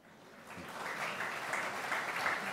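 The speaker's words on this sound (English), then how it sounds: "a bigger round of applause" An audience at an arts award ceremony gives a round of applause that starts soft and swells into sustained, even clapping, staying strong to the end.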